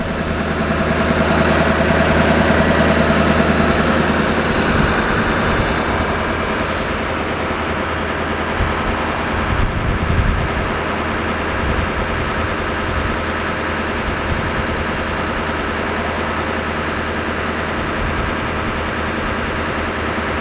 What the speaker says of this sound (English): You can hear it idling well